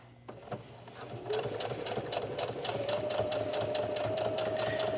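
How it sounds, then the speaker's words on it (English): A sewing machine topstitching along the edge of a front pocket, starting after a few soft handling sounds, then running in a steady, rapid whirring rhythm that continues to the end. "we'll just start stitching on this front pocket"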